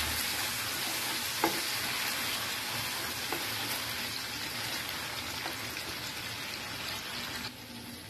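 Egg fried rice being stirred and mixed in a pan with chili sauce, a steady close sizzle and frying hiss throughout with a few soft scrapes, no voices.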